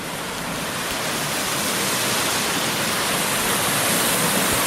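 Steady, loud rush of water flowing at a creek swimming hole along a hiking trail, a continuous broadband roar like a small cascade, constant throughout with no voices.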